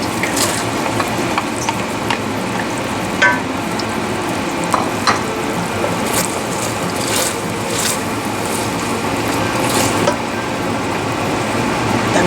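Onion frying in a pan for Peruvian ají de gallina, a loud, close, continuous sizzle with scattered crackles and light stirring, no voices.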